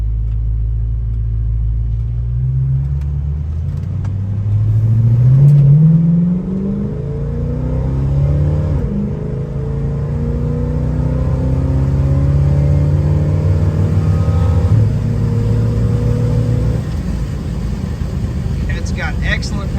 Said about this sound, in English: I'm gonna have him get on it just a little bit, and we'll see what this GTO is made of.